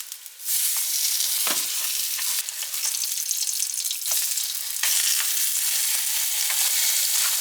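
Seitan steaks fry in a hot pan, a loud, steady crackling sizzle that runs unbroken after a brief quieter start, with small bursts and pops throughout and no voices.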